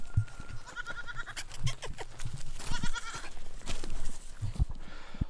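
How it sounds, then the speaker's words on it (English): Goats on a farm bleat in several short, fairly close calls spread through the stretch, mixed with other farmyard noise and no talking. "The goats don't want anything to do with Mary Poppins, though."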